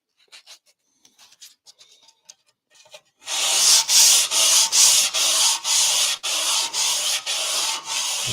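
Hand sanding with 240 grit sandpaper on a tank, loud steady back-and-forth strokes in regular rhythmic passes after a few seconds of faint light scratching.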